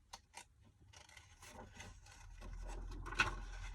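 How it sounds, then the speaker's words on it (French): Scissors cut paper around a printed image for a decorative envelope mini album. The snips and crinkly rasps are soft and close, coming in an irregular rhythm over a faint low hum. "je vais prendre un ciseau. Je vais découper autour de mon image."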